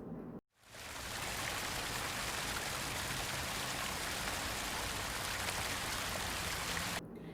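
Water pours steadily over charcoal, gravel and sand filter materials as they are washed, a dense continuous splashing rush that starts after a brief pause and stays even throughout, close and without talk.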